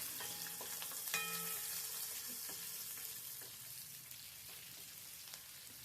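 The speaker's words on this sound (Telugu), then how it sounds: "ఆ తర్వాత ఉల్లిపాయలు, పచ్చిమిర్చి వేసి వేగనివ్వాలి." Chopped onions and green chillies sizzle steadily in hot ghee with spices. A spoon scrapes and clinks against the pan now and then, and no one speaks.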